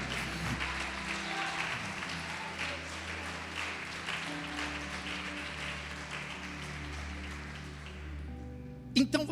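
A church congregation applauds, sustained clapping under a low organ or keyboard drone, fading near the end before a couple of sharp knocks.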